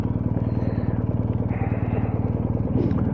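A BMW R1250GS motorcycle engine idles close by during tight low-speed parking, a loud, steady rhythmic thrum with light mechanical clatter and a brief rev near the end.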